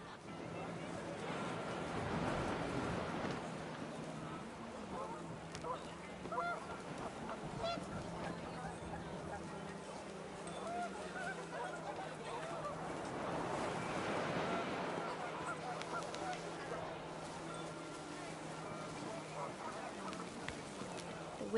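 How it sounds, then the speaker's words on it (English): Panicked geese honk in What Remains of Edith Finch as wind picks up, a flock of fairly faint honks and squawks spread over a windy, surf-like wash. "The wind picked up, and panicked geese appeared and quickly went"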